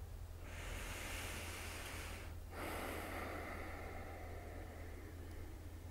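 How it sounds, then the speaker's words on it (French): A long, deep breath is drawn in audibly through the nose during a yoga session. The inhale is soft, close and breathy, with a brief pause partway before it continues steadily. "emprunter une longue respiration profonde et sonore par le nez"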